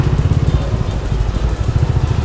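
A Goan Classic 350 motorcycle engine runs steadily nearby, a loud, even low thumping with a smooth, refined pulse and light mechanical clatter, no talk over it.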